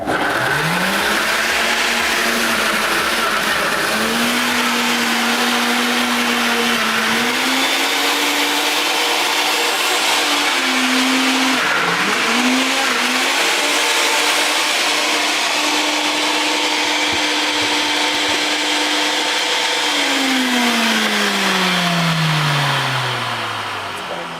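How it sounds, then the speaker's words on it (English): Blender whirring loudly through frozen strawberries and milk for a smoothie, its motor pitch holding steady then dipping briefly mid-run before winding down at the end; a continuous, close, grinding roar with no talking. "So we're going to blend this. It's going to be a little noisy for 2 minutes"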